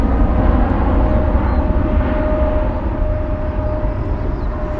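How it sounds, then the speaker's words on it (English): British Airways Boeing 777 bound for Toronto departing London Heathrow: a steady, loud jet engine roar with a faint high whine, sustained without a break and with no voices. "we've got a Boeing 777 bound to Toronto, British Airways"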